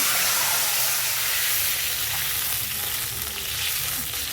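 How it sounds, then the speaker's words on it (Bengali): Water is splashed into hot oil holding a single green chilli, producing a loud, steady hissing sizzle with a rush of steam that holds evenly throughout. "একটু অল্প করে জল দিচ্ছি"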